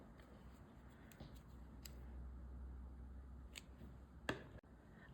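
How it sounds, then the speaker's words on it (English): Scissors snipping crochet yarn, several faint crisp clicks and a final sharper snip against quiet room hiss, close and isolated. "I am now going to cut our yarn."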